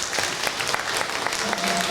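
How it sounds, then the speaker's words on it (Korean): Congregation applause welcoming a newly registered member during a Sunday church service, a short burst of scattered clapping with a voice speaking over it. "우리 박수로 환영하겠습니다"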